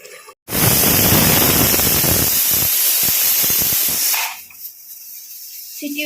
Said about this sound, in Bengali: সিটি উঠে গেছে